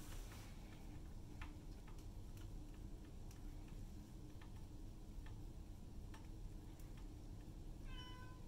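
A cat gives a short meow near the end, rising over a steady broad hiss and hum with faint scattered ticks and clicks throughout; it is fairly quiet and there are no voices.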